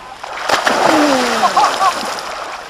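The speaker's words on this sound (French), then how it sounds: "Je m'en mets dans l'eau tout droit, comme ça." Someone plunges straight into outdoor water on a trip to Canada, a close splash followed by sloshing and churning, with voices and shouts over it.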